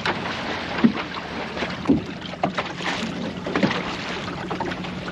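Small Welsford Navigator sailing dinghy on Plymouth Sound hitting waves from passing boats: wind rushing over the microphone with several soft thumps and splashes of water against the hull, no talk.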